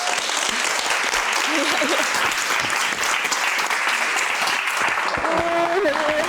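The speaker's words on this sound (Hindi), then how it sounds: "Please give a big applause." Loud, sustained applause from a crowd fills the whole span, with a few voices calling out beneath the clapping.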